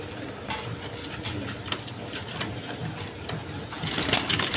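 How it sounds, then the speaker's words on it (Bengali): Pigeons at a market stall coo softly in a low murmuring chorus, with some background clatter and a rise in noise near the end. "দেখেন একদম ছটপটা কবুতর"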